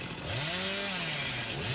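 Chainsaw revving in the video game Dead by Daylight, a loud harsh buzzing roar whose pitch climbs and dips in a continuous growl, close and dominant with no voices.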